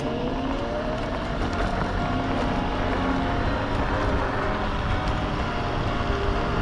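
FLJ SK3 Pro dual-motor electric scooter ridden in speed 1 with turbo, a continuous loud rush of wind and road noise with a low motor drone and no pauses.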